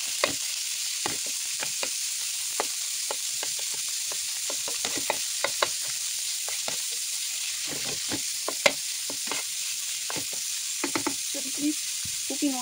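Pork sizzles in a little hot oil, a steady bright frying hiss with scattered pops and crackles running continuously and close, alone without voices.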